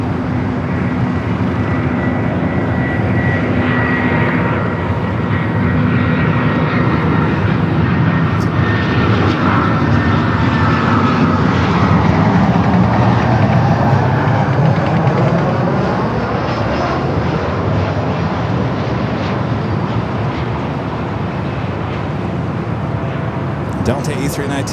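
An airliner jet roars steadily at Los Angeles LAX airport, loud and continuous for the whole stretch with a shifting engine tone, while a radio or commentator voice talks over it.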